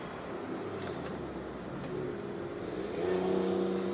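A 2022 Proton Saga cruising along a road, its steady engine drone and tyre roar continuous from inside the cabin, with the engine note rising and firming up near the end as it pulls harder.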